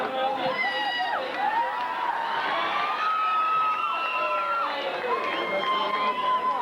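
A capacity crowd at a boxing match roars and cheers continuously, with whoops and shouts rising and falling in a dense, loud wash of voices that carries on for several seconds.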